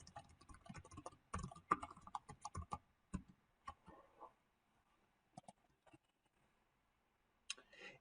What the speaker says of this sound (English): So typing in my email address without typos.